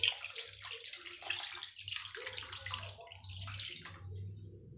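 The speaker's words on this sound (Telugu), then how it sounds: "ఈ ముక్కలు మునిగే వరకే నీళ్ళు పోసుకుంటే సరిపోయిద్ది" Water is poured into a pot of fish pieces for a fish curry, making a steady splashing, gurgling rush that runs close and continuous for several seconds before easing slightly at the end.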